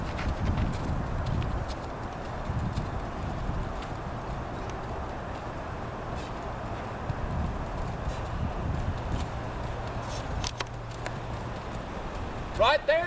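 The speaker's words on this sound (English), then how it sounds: "I'm going to ride out of the frame a little bit and see if I can come through and get him to gait for you" A gaited horse under a rider beats out a steady, rapid, even hoofbeat rhythm for over ten seconds, moderately near, with people talking over it.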